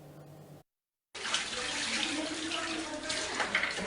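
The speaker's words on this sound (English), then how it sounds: "The water has started flowing from the taps, but the water is muddy and murky." Muddy, murky water gushes steadily from a tap after a brief silent gap, a loud, continuous hiss and splash with no voices over it.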